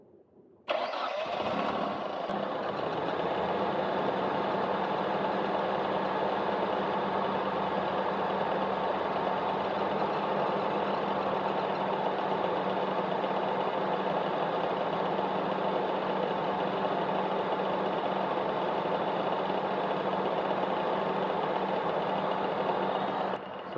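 A car engine, fitted with a swapped alternator and tensioner, cranks briefly and catches, then settles into a loud, even idle that runs steadily for over twenty seconds with no one speaking.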